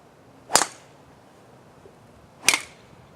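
Two crisp, sharp impacts of a golf club striking a ball on a draw shot, spaced about two seconds apart, each fading quickly against quiet background.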